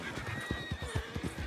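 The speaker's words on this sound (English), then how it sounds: "horses." Wild horses whinny loudly nearby in the Western game Red Dead Redemption 2, a drawn-out neigh with rapid fluttering pulses, mixed with a few hoof clops and no talking.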